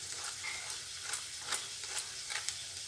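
Atta-oats egg-potato pockets frying in shallow oil, a soft continuous crackle and sizzle with small sharp pops, fairly faint and close.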